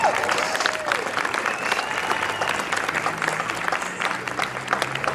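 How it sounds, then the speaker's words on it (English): An audience at a hall of fame induction ceremony breaks into steady applause, a dense wash of clapping filling the room for several seconds, with a faint voice in the background. "Yes, she deserves a round of applause."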